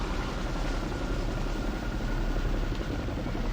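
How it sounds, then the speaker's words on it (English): A Boeing Chinook twin-rotor helicopter flies a display, its heavy rotor thump and engine roar steady and loud throughout, with no voices. "we're going to see a spectacular display of the handling qualities of the Chinook"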